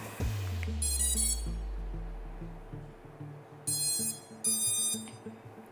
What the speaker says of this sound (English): All motors beep. You get the doot at the end, so ESC communicating with the flight controller